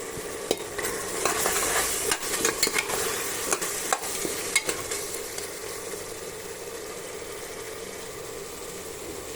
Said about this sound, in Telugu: టమాటా ఉడకాలి, అది ఉడికేంత వరకు ఫ్రై చేసుకుందాం.